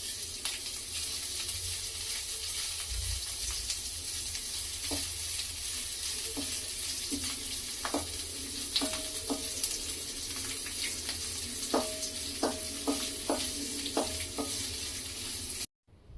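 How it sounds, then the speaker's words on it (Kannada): Chopped onions fry steadily in a pan, a constant close sizzle with occasional scraping stir clicks and a few light metallic taps, no voices. "ಅಟ್ಲೀಸ್ಟ್ ಒಂದು 3 to 5 ಮಿನಿಟ್ಸ್ವರೆಗೂ ಅದನ್ನು ನೀಟಾಗಿ ಫ್ರೈ ಮಾಡ್ಕೋಬೇಕು."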